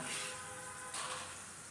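Mustard seeds go into hot sesame oil for a Kerala-style lemon pickle, giving a faint, steady sizzling hiss that runs throughout with no voices.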